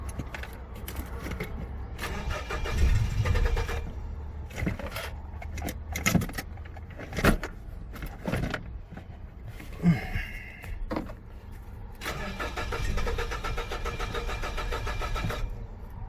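A 2007 Nissan Frontier engine cranks repeatedly without catching, with bursts of starter whirring separated by pauses, close and loud, plus a brief jingle of keys.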